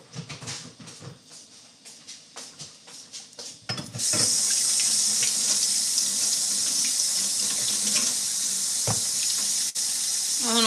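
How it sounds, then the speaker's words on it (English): Hands washed under a running kitchen tap while cooking fish, the water turning on midway and then rushing loudly and steadily, after some earlier clatter and splashes. "I be washing my hands"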